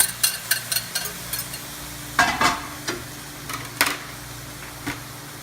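Beef, peppers and onions are stirred into a pot of chili, a run of irregular spoon scrapes and clacks over a soft sizzle and a low background hum, close and alone.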